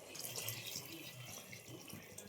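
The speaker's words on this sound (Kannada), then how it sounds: "ಇವಾಗ ನಾವು ಇದಕ್ಕೆ ನೀರು ಆ್ಯಡ್ ಮಾಡ್ಕೊಳ್ಳೋಣ" Water runs steadily into a cooking pot for mushroom biryani, a continuous close splashing pour with no talk.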